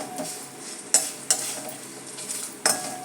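Lentils and spices frying in oil in a pan for a tempering, a close crackling sizzle broken by four or five sharp metallic clinks of a spoon stirring against the pan.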